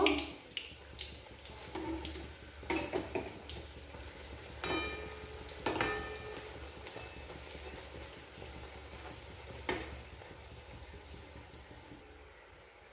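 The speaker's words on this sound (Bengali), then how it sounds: "এরপর উল্টে পাল্টে লাল করে সাতপুরি ভেজে নেব" Coconut sat puri frying in white oil over medium-low flame gives a faint, continuous crackling sizzle, broken by a few sharper clicks and taps as the pieces are turned.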